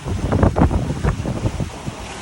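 Strong gale-force wind, around 60 knots or more, roars across the microphone aboard a sailboat at sea with the main reefed, gusting in loud rolling buffets alongside rushing water, with no voices.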